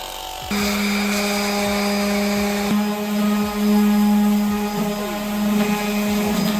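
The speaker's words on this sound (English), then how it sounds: "So we got it sanded down pretty good with the 80." A power sander takes rust off a truck tailgate with 80-grit paper, giving a loud, steady high-pitched whine that starts abruptly and runs on with slight shifts in pitch and load.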